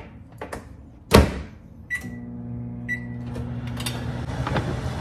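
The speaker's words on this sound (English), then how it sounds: "I'm gonna heat it up in the microwave." A microwave oven heating bone broth: a loud door thump, a couple of short beeps, then a steady low hum as the oven runs, faint and close in a quiet kitchen.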